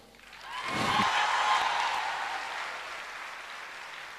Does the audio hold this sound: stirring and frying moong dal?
no